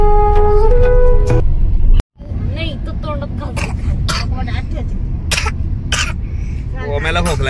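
A child coughs inside a moving car on a family road trip, short harsh coughs and throat clearing over a steady low engine and road rumble, with adults talking nearby.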